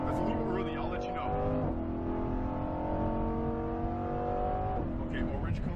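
Lamborghini Huracan Performante on a race track, engine held at full throttle in a loud, steady high-revving drone with a brief shift-like dip, a voice talking over it from inside the car.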